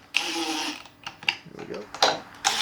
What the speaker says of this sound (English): That one moved as I tightened the screw.